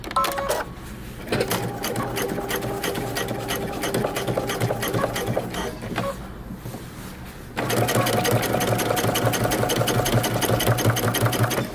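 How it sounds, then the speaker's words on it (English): Sewing machine stitching a jeans seam close to the edge, fast steady needle chatter in two runs with a short pause between, the second run louder. "with your seam allowance facing the back of your pants, we're going to stitch close to the edge"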